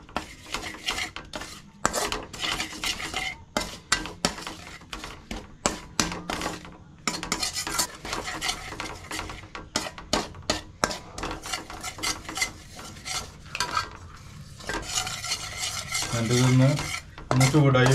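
Spoon stirring half a spoon of cornflour into butter and garlic in a pan, with repeated close scraping and clinking against the metal and a faint sizzle late on.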